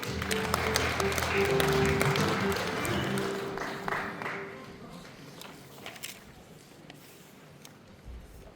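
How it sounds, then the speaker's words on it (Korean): An audience applauds to welcome a speaker at a Korean industry briefing, with clapping strongest at first, then thinning and fading into scattered claps and room noise. "여러분들 큰 박수로 맞아주시죠"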